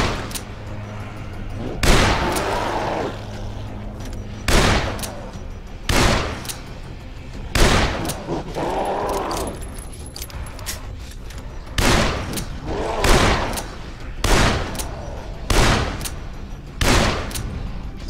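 Gunfire in Dead Island combat against attacking enemies: a series of loud, sharp shots spaced a second or two apart, some in quick pairs, over a low game background hum.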